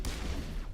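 A sniper rifle fires in the game Mass Effect Legendary Edition on PS5: one loud, sharp shot cracks out close by, then trails off into a dense, rumbling decay with no talking over it.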